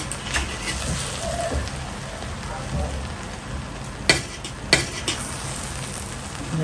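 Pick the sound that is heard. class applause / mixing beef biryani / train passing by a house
mixing beef biryani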